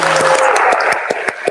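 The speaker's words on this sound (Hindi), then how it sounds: "प्लीज तालियां बजाएं।" Audience applause at a political rally for a PTI lawmaker, a dense steady wash of clapping with sharp individual claps standing out, fairly close and continuous throughout.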